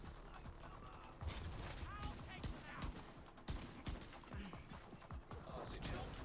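Rapid gunfire in the shooter game The Division 2, sharp bursts and single shots cracking repeatedly over a busy mix of game effects, with a voice talking briefly.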